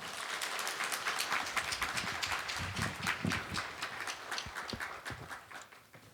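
A church congregation gives sustained, dense applause welcoming a pastor to the pulpit, the clapping steady and fairly close for about six seconds before easing slightly at the end.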